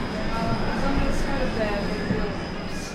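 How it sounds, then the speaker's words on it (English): Steady rumble and rattle of a moving tram interior on the way toward Pontivecchi, a constant low drone with faint squeals, running continuously for the few seconds. "this is the tram."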